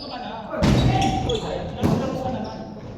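Basketball bouncing on a court during a game, two distinct dribble thuds about a second apart, loud and close, with people talking around them.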